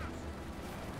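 Grenade explosion in the real-time strategy game Company of Heroes 2, a dense rumbling blast inside continuous battle noise of artillery and gunfire, loud and filling the whole moment.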